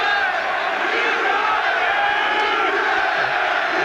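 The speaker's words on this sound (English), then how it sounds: "And the crowd there giving it the Eubank cheer" A dense boxing crowd roars steadily throughout a Chris Eubank versus Sugar Boy Malinga fight, cheering in support of Eubank with a constant loud wall of voices and shouts.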